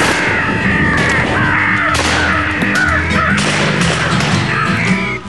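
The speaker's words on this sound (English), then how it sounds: "His loudspeakers broadcast the sound of a crow and an owl in a fight" Crow and owl fight recording played through loudspeakers to lure crows in an urban area: dense, loud, continuous harsh cawing from many crows, layered and overlapping throughout, with some booming noise beneath.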